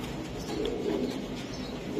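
A racing pigeon, a BRPFC 2020-ringed bird from a club loft, coos softly and continuously at close range, with low rumbling calls over a steady background and no talk.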